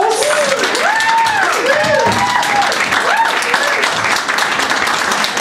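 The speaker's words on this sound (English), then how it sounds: "give it up for your host" Comedy club audience applauding the host at the end of a stand-up set, loud sustained clapping from a full crowd with scattered whoops and whistles rising over it throughout.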